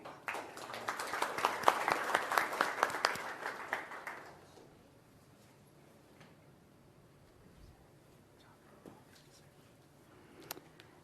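A room at an El Cajon city council meeting fills with clapping for about four seconds, a dense steady patter of many hands that then fades into quiet room tone with a few faint knocks.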